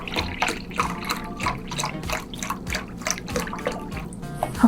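Oat milk pours steadily into a bowl of mashed bananas for vegan pancakes, a continuous close liquid trickle and splash with small drips, alone without speech.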